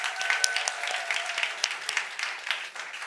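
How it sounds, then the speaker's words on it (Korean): A church congregation applauds: a dense, even wash of many hands clapping, sustained and fairly loud throughout. "우리 박수 한번 보내드릴까요?"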